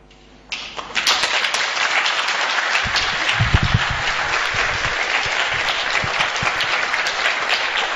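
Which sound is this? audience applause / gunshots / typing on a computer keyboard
audience applause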